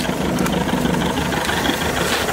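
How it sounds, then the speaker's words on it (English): A 1979 Mercruiser 3.0L 140hp marine engine runs at a steady idle, with a close, rough, even rumble that goes on without a break and has no talk. "Now my engine's still running."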